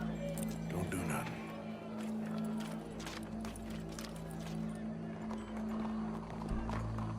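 A horse moving at close range with steady clip-clopping hooves, mixed into a constant low hum, while people talk over it.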